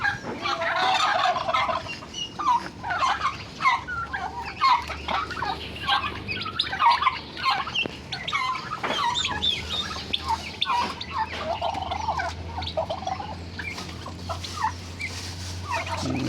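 Pet turkeys on a farm gobble repeatedly in rapid rattling bursts, several birds calling over one another nearby, with a low background rumble underneath.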